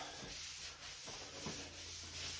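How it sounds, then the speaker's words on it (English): A damp sponge is wiped across repaired drywall with a steady, faint scrubbing rub and a few slightly stronger strokes, heard close and alone. "the sponge is going to pick up any of the residue that I wasn't able to get"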